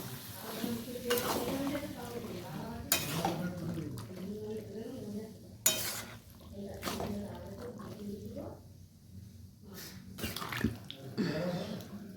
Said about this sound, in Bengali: এরপর কলাইগুলোকে আমি আলুর সাথে অ্যাড করে দিলাম ভালো করে মিশিয়ে নেব